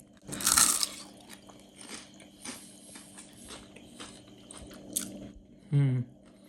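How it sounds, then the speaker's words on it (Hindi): A crunchy three-layered Indian snack with a dal-like inner core, bitten dry without chutney; a loud crisp crunch up close, then lighter chewing crunches, with a brief voiced sound near the end. "और एक बाइट और लेता हूँ मैं बगैर चटनी के"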